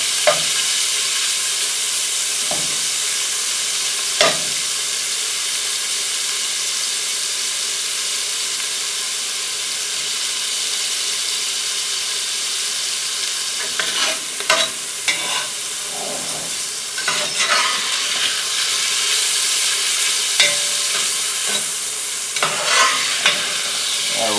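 Beef pieces flash frying in a cast iron pan for beef barley soup, a steady loud sizzle and hiss throughout with intermittent scraping and clinking as the meat is stirred and tossed, no talking.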